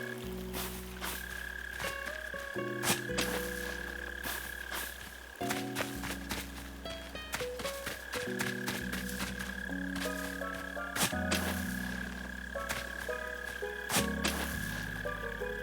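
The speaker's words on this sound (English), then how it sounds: "With these mole crickets, man, I guess I have to dig them up" Mole crickets in Animal Crossing New Horizons give a looping, steady croaking buzz with stepped pitch changes, fairly loud and continuous, with no talk over it.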